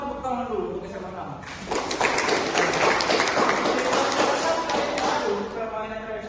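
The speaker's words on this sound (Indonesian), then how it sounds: "Coba tepuk tangan dulu untuk SMA 6." An audience claps for SMA 6 high school students, tug-of-war champions at a school physical education event in Indonesia. A dense burst of applause swells in and holds for several seconds before tapering off.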